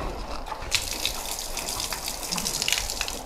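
Water gushes steadily from a tap installed in a rural house near a pig shed, a continuous splashing flow with small drips and surges, fairly close and alone.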